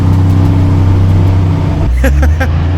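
An old Dodge Power Wagon truck crawls slowly in first gear, its engine giving a steady, loud low rumble throughout, with a shift in tone near the end and voices speaking briefly over it.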